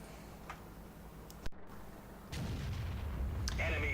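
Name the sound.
FV215B tank gun firing, World of Tanks video game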